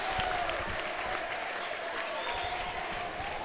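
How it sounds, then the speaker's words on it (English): Basketball fans clap steadily through a timeout at a high school girls' varsity game, the applause a dense, moderately loud patter filling the gym, with a voice talking over it now and then. "This crowd is coming alive"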